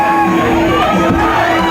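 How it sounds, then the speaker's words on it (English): Crowd cheering and shouting at a boys lacrosse game, a brief loud burst of many voices roaring together under a tied score. "Crowd getting into it."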